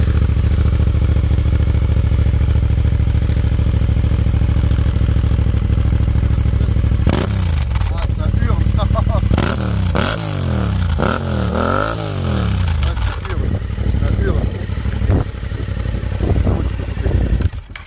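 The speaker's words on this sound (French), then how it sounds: "Ah, le bicylindre il hurle." A Yamaha MT-07 twin-cylinder motorcycle with an aftermarket exhaust and K&N filter idles with a low rumble, then revs hard in repeated sharp, loud blips that rise and fall, close to the listener.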